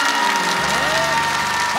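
Studio audience applauding at a KBS national singing contest broadcast in Busan, a dense steady wash of clapping with some voice and tonal sound mixed in.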